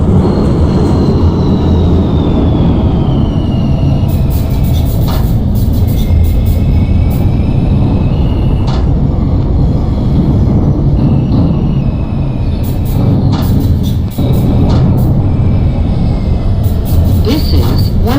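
A New York City subway 2 train bound for 241st Street–Wakefield rumbles loudly and continuously, with high wheel squeals and screeches cutting through the roar.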